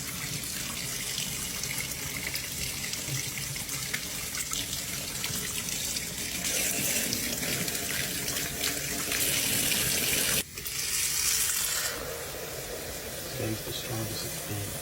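Tap water runs steadily into a sink while a soapy coffee maker is rinsed out, a continuous broadband splashing that swells louder midway, with a brief break, alongside faint talk.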